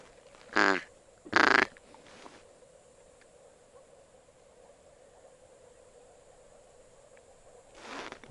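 Two short loud quacking bursts from a duck in a spring marsh during a hunt in Komi, close and distinct, followed by a long stretch of quiet background with another sound rising at the end.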